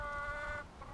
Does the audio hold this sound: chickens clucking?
yes